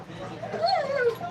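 Pet dogs whimper and yip in short, high, wavering cries close by, mixed with human talk.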